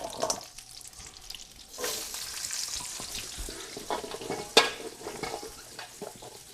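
Onions and bell peppers sizzle and fry in a hot wok with occasional stirring scrapes and a sharp clink of utensils, steady and close.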